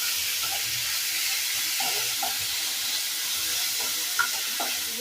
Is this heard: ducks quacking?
no